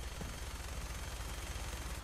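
Rapid gunfire in Fallout 4, a dense, continuous rattle of automatic shots blending into a steady roar with no pauses and no talk.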